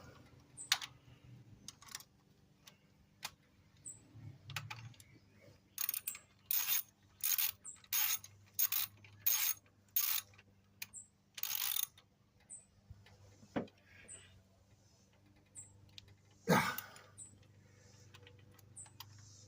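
A socket ratchet tightens the fuel rail on a 96 Lumina: a close series of quick clicking bursts, with scattered knocks and clunks of tools around them.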